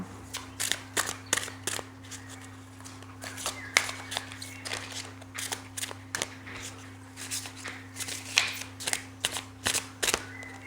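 A deck of oracle cards is shuffled by hand close up, making a quick run of crisp riffling and slapping bursts in an uneven rhythm over a low steady hum.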